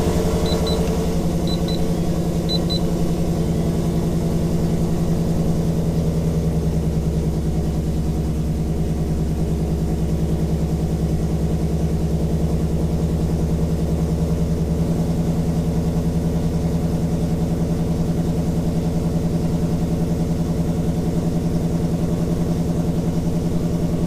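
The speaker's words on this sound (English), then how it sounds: "I'll turn the car on." Ford Mustang GT350 V8 idling steadily after being started, a loud, close, even engine drone with a low rumble running unchanged for over twenty seconds, a few faint high beeps early on, no speech.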